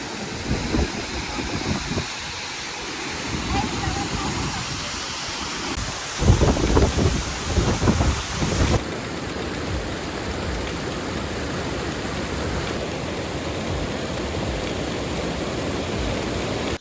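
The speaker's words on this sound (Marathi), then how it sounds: "चिपळूण येथील सावतसडा धबधबा डोंगराच्या कडेवरून कोसळतोय खाली" Sawatsada waterfall near Chiplun plunging down a hillside cliff, a dense, steady roar of falling water that stays loud and unbroken, with a short stretch of heavier gusty rumble midway.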